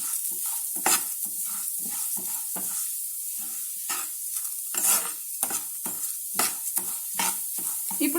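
Onions or spices sizzling and frying in a hot pan while being stirred, steady crackling hiss with repeated scraping stir strokes at close range, no talking, before rice is added for sweet pongal.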